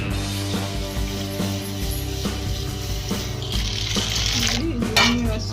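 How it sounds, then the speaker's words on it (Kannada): Soaked sago pearls washed by hand in water in a kitchen, with close sloshing and splashing, a few clinks, and a louder splash near the end. "ಇದನ್ನು 2-3 ಸತಿ ತೊಳೆದ್ಬಿಟ್ಟು ನೀರನ್ನ ಹಂಗೆ ನೆನೆಸ್ತೀನಿ"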